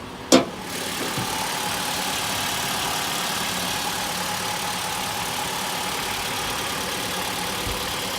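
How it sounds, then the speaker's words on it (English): A Mitsubishi ASX car engine idles with a steady, even drone throughout, preceded by a single sharp click at the start. "as you can probably hear, I do have the car running"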